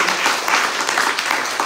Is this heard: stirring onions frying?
no